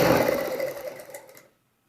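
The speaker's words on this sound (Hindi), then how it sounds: "इस प्रकार से इस तरीके से खींच के आगे की आपने सिलाई लगानी है।" A sewing machine stitches elastic onto the waistband of palazzo pants in a brief whirring run of about a second and a half, close and steady, then stops into silence.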